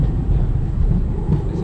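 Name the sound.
modern tram passing in Riga, Latvia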